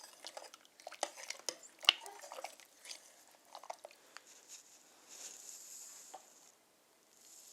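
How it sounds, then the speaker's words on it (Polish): Horseradish soup with cream is stirred in a pot, making quiet scraping and clinking of a utensil against the pot, with soft wet squishing between strokes. "Całość wymieszam."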